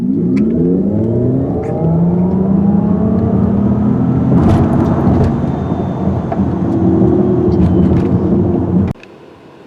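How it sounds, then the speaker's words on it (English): A 2022 Mercedes EQS 580 electric car accelerates hard, its rising synthetic whine sweeping upward under heavy road and wind roar, ending abruptly near the close. "If you want some quick acceleration, this car delivers."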